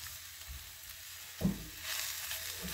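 Onions sizzle in a pan on a home stovetop, a steady faint frying hiss with a brief clatter or stir partway through and a slightly louder sizzle toward the end.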